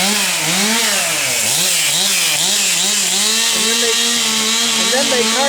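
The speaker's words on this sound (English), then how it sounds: "They're cutting up parts of the tree that they lowered." A chainsaw cutting up sections of a lowered tree in a Chicago suburb, its engine rising and falling with each cut, loud and close and running continuously.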